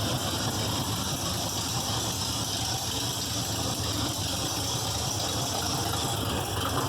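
A stock car engine idles loudly and steadily up close, a constant rough drone with slight rattle and no pauses.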